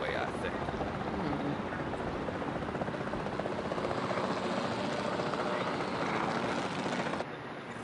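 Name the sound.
capture team helicopter in the video game Jurassic World Evolution 2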